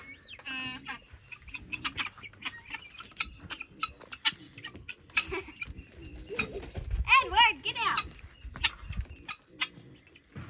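Guinea fowl released from a pen on a farm yard, giving repeated high, rattling calls and clucks that rise into a noisy burst of overlapping squawks, with people talking throughout.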